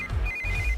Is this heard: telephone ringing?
yes